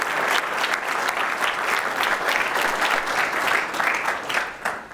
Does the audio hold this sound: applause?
yes